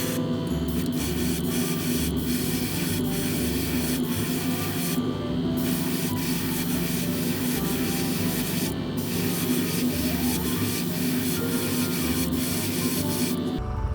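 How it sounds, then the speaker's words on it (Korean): Finisher's pink foundation paint sprays from an airbrush-style nozzle onto a disposable ivory plastic spoon, a continuous close hiss with a steady compressor hum beneath it and a few brief pauses in the flow. "요거 위에다가 한번 뿌려 볼게요. 자, 먼저 피니셔스 핑크 파운데이션입니다."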